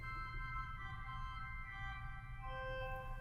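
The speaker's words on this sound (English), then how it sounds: "2 foot by itself sounds like this." The 2 foot stop alone on a 1906 Felgemacher pipe organ gives thin, high, flute-like pitches, softer and quieter than fuller registrations, sustained over a low room rumble with a short melodic phrase and no speech.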